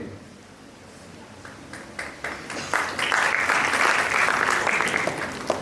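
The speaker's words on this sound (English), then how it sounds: "Why are you clapping?" Audience applause breaking out during a motivational speech by a Jain monk in Gondia, Maharashtra: scattered claps build into steady, fairly loud clapping from a crowd.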